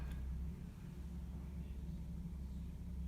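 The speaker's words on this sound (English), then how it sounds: "Now the garbage trucks are outside." Garbage trucks outside a house give a low, muffled engine rumble, steady and fairly faint as heard from indoors.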